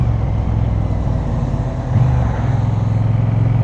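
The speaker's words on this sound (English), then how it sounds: "This motor is really, I mean, it's twice the size of that Enfield, but it really is torquey." Triumph Bonneville T120 twin-cylinder motorcycle engine under way, a steady close rumbling drone with a brief dip and then a pulling rise in pitch as it accelerates, with no voice over it.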